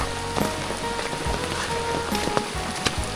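Heavy rain falls during a trip in Laos, a dense steady patter with scattered sharper drops and knocks close by, and no voices.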